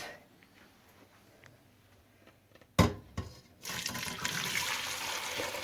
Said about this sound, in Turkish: Suyunu bir güzelce süzüyoruz.